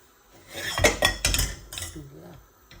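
Marinated chicken being put into a cooking pot on a stove, a few loud metallic clanks and scrapes of utensils against the pot clustered over about a second, then quieter handling noise.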